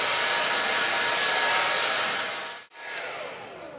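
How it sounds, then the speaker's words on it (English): A hair dryer blows steadily as bangs are blow-dried over a brush, cutting out briefly before starting again at a slightly lower level. "Just let it lightly skim on the top of your brush and blow dry over the section."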